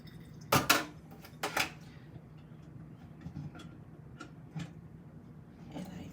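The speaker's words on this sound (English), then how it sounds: "I'm going to dump out the jar that had the vinegar with just the shell" A glass jar that held vinegar and an eggshell is dumped out, giving two sharp clattering knocks of glass early on, then scattered faint clinks and taps against a quiet room.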